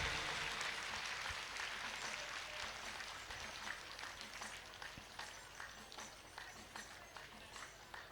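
An audience gives a long round of applause to welcome a guru at a devotional gathering, dense clapping that starts loud and slowly thins, with faint voices underneath.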